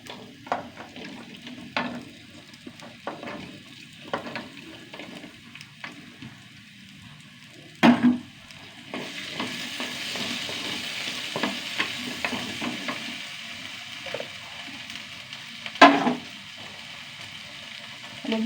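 Sliced okra frying in a little coconut oil while being stirred in a pan: a soft continuous sizzle with scattered scrapes and clinks of the spoon, one louder knock mid-way, close up and without talk.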